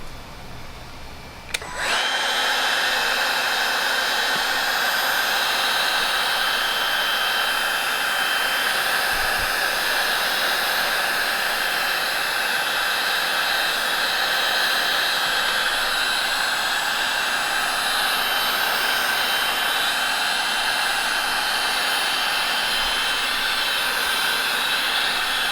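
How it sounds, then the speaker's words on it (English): A heat gun blows steadily to dry a repair coat on damaged leather in a Porsche 997.2 GT3 RS, switching on abruptly and then roaring with a loud, even hiss that continues without a break for over twenty seconds. "I just dried it with the heat gun"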